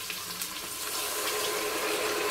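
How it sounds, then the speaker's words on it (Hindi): Water poured into a pan of frying onion, tomato and spice masala hisses and sizzles sharply, a dense, bright continuous fizz close up with no talking. "हल्का सा पानी शामिल करेंगे इसके अंदर"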